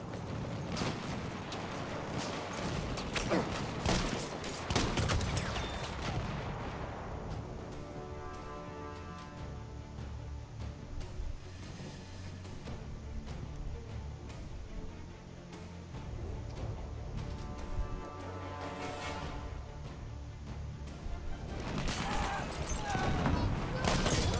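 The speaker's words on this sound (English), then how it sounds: "Who's shooting us from there?" Heavy gunfire and booming blasts from a Battlefield 1 Conquest match on the St Quentin Scar map, loud bursts at the start and end with rumbling battle noise between, while players chatter over it.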